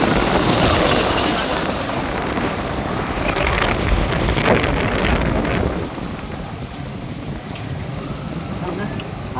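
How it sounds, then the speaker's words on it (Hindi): Steady, dense hiss of rain falling, mixed with gusty wind rumble, continuous and fairly loud throughout. "देखो साथ साथ में बारिश आ रही है"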